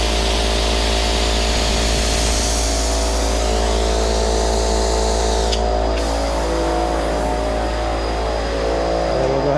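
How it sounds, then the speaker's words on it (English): An air compressor runs continuously during a brake fluid flush on a Nissan GTR R33, a loud steady mechanical hum with constant tonal drone filling the whole stretch. "we got the compressor going"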